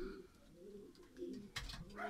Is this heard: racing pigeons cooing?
yes